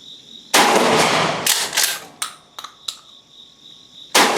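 Gforce GF12P air rifle firing lead pellets at a target: a few sharp, close cracks spaced seconds apart, with lighter clicks and handling noises between them.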